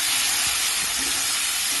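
Cumin paste sizzling in a pan with softened tomato and onion for a Bengali rohu fish curry, a loud continuous hiss of frying that fills the whole moment close up, with faint clinks underneath.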